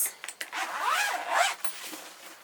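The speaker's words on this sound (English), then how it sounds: "Then, let's zip this." A zipper is drawn shut on a toiletry bag of hair products in a few quick, close pulls, rising and falling in pitch as the slider runs along the track, with nothing else heard.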